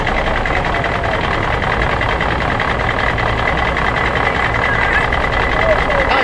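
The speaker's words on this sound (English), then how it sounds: "Is that my car making a sound?" A car engine hums loudly and steadily nearby on a town errand drive, a constant low droning rumble that continues unbroken throughout.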